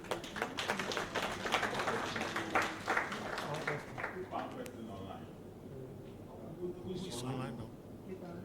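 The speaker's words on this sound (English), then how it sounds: "Shall we give a big round of applause?" Conference audience applauding at a hybrid event, a dense wash of clapping that swells through the first few seconds and then thins out, with some talk mixed in.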